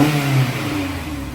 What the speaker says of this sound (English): But then when you rev it on the load, you can hear it.